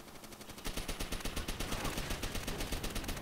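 Rapid automatic gunfire in the World War II shooter World at War, a steady stream of evenly spaced shots lasting throughout, close and loud with no talking.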